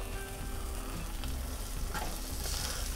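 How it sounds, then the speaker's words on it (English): Ocean perch fillets searing in a well-heated pan give a steady, close sizzle and crackle that holds at an even level throughout, with no talking. "Just gonna stick the fish in here."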